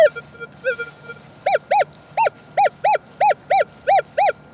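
A Minelab Equinox 800 metal detector with a 6-inch coil sounds its target tone: about ten clear, evenly spaced warbling beeps, loud and close, each the same pitch, after a few softer blips.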